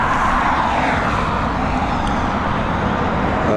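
Airplane approaching Dublin Airport, a loud, steady broadband roar of jet engines that fills the whole short stretch without pause or talk.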